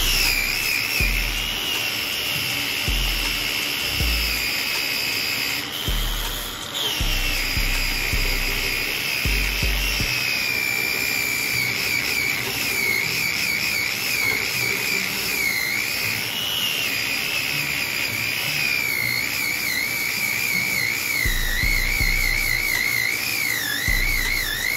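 A power sander works wood with sandpaper from 60 to 240 grit for a handmade sweets tray, a continuous high whining drone whose pitch wavers as pressure changes, with gentle thumps of the tool against the workpiece.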